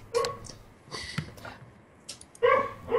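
A dog in a room gives a few short, close barks and yips, separated by brief quiet gaps, with no talking over them.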